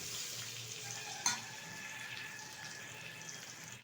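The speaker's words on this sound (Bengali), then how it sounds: "পটলটা শুধু হলুদ দিয়ে ভেজে নিচ্ছি" Pointed gourd (potol) pieces fry in hot oil with turmeric, giving a faint, even sizzle with one brief sharp pop early on and no talk.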